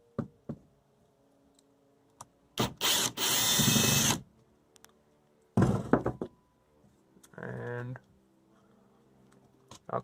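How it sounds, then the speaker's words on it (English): Power drill backing screws out of a fiberglass van window frame, a couple of loud buzzing bursts separated by quiet gaps and scattered knocks. "So I'm just zipping out all these screws."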